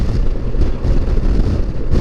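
Strong, steady wind gusts roar and buffet the microphone over open cotton fields. The sound is loud, continuous and low-pitched, with no voices.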